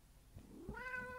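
A pet cat named Misty gives a single drawn-out meow that rises and lingers, close and fairly quiet, with no talk over it.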